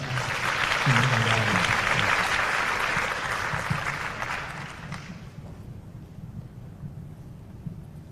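Student council leaders in Jakarta give a room-filling round of applause that stays strong for about four seconds and then fades away, leaving low room noise and faint murmur.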